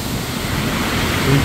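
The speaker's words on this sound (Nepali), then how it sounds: "जुन चाहिँ पुग्ने बेलाको झरना हो यी" A mountain waterfall pouring into a pool near Langtang hisses in a continuous, loud broadband wash, with wind buffeting faintly over the short stretch.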